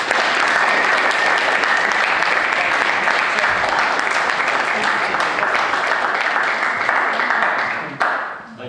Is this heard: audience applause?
yes